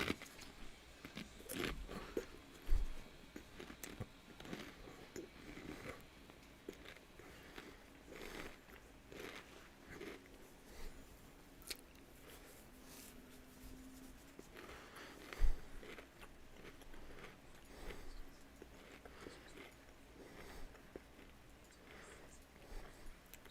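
Doritos chips are eaten close to the mic, with quiet, irregular crunching and chewing spread across the stretch, a couple of sharper bites standing out against a low background.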